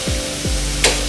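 A string bean stir fry sizzles steadily in a hot pan as a spoon scrapes through it twice, followed by a brief sharper clatter.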